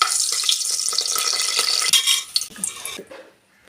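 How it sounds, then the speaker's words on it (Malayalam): Cashews and raisins fry in sunflower oil and ghee in a hot pressure cooker, giving a bright sizzling hiss with scraping stirring, then fading out toward the end; close, no talking. "കുക്കർ ചൂടാകുമ്പോൾ കുറച്ച് സൺഫ്ലവർ ഓയിലും 2 സ്പൂൺ നെയ്യും ഒഴിച്ചു കൊടുക്കുക. അതിലേക്ക് കശുവണ്ടി മുന്തിരി നമുക്കൊന്ന് ഫ്രൈ ചെയ്തെടുക്കാം."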